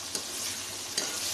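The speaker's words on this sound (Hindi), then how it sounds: "और इस मसाले को अच्छी तरह हम पका लेंगे।" Masala with tomatoes frying in a pan, a steady close sizzle with two brief scraping stirs.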